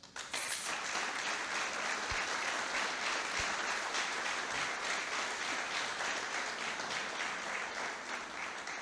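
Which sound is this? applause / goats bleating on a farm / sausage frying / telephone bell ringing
applause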